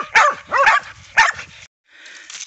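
A hunting dog during an armadillo hunt gives three loud, close barks in quick succession, followed by a brief pause and faint background noise.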